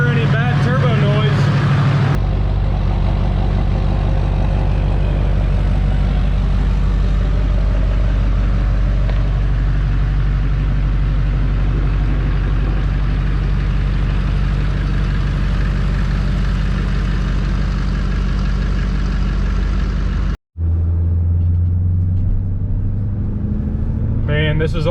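A Duramax diesel pickup truck with a freshly installed turbo runs at a steady, loud idle close by. Someone talks over the engine's low rumble.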